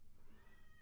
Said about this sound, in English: I'm going to let my cat out. I think they're trying to get upstairs.